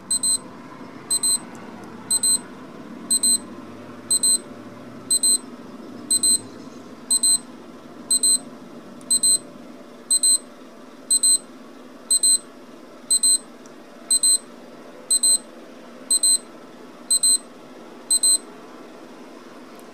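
A Casio calculator watch alarm beeps in a steady, evenly spaced series of short, shrill double chirps, about one burst per second, loud and alone over faint room hiss.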